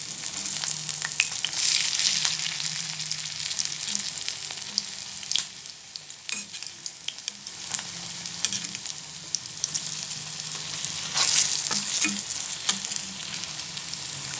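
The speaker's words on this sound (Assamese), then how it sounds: "আপোনালোকে উলট পালট কৰি দিব জানেই সকলোৱে ভাজিব কেনেকৈ লাগে" Malpua frying in hot oil and being turned by hand, a steady close sizzle throughout with brief louder bursts as the batter is stirred and flipped.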